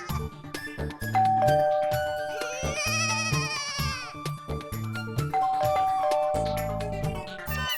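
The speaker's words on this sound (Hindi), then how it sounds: "इसकी तो घंटी भी बज रही है।" A doorbell rings at an apartment door in an Indian TV sitcom: a series of bright electronic chime tones repeating over several seconds amid other tonal sounds, with no speech.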